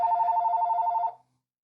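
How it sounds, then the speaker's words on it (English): A phone rings with one steady electronic trill for about a second, then cuts off into silence. The ring is clear and fairly loud, with no talking. "The phone went off."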